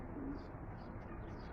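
Pigeons coo softly on a rooftop, a faint low cooing over a steady hum of background noise.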